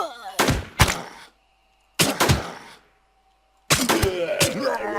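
Gunfire from the survival video game RigorZ: three separate bursts of sharp, loud shots, each with a short decaying tail, separated by near-silent gaps, the last burst running into busy game sounds.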